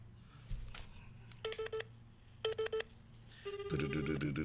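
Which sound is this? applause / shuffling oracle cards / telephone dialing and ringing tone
telephone dialing and ringing tone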